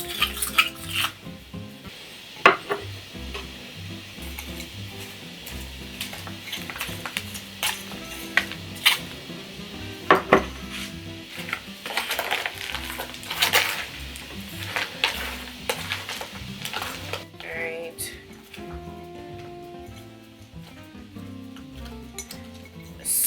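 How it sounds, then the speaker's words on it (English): Potting soil for a Hoya plant is mixed in a container, producing irregular scraping, rustling and clinking bursts of varying loudness over a long stretch, with no talking. "I'm gonna mix the rest of the soil in here because I see I'm running out."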